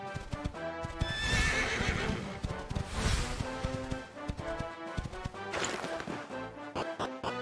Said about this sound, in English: The horse won't come into the woods, huh? Spooked, I see.